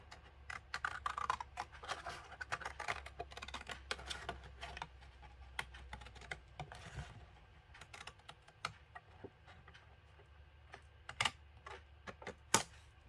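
Long scissors cut cardboard along a drawn line while making a box, a run of crisp snipping and crunching clicks, fast at first and then sparser with brief pauses, close by and with no talking.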